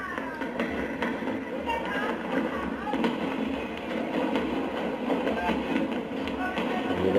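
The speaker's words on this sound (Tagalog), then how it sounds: "Yan ang firework display." New Year's fireworks display bursts continuously with scattered pops, thumps and crackles at mid distance, a busy layered wash of explosions mixed with crowd noise and voices talking throughout.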